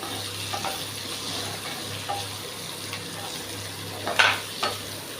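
Onion and capsicum frying in a pan for upma give a soft, steady sizzle with a faint low hum, then a couple of sharper spoon scrapes near the end.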